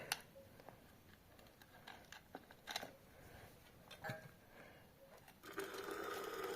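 A small gear motor whirs faintly with light mechanical ticking, then grows into a steadier, louder hum near the end; close by and otherwise quiet.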